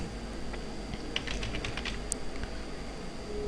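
Steady run of light keystroke clicks from someone typing text on a computer keyboard into MS Word 2007, fairly close and alone over a low background hum.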